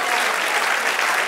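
Steady, dense applause from a church congregation during an evangelical service, filling the whole short moment at an even loudness with no voices over it.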